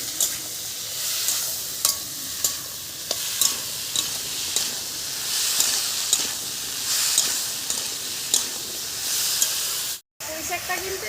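A ground spice paste with salt sizzles and hisses in a hot pan while being stirred, with periodic scraping strokes and a brief cut near the end.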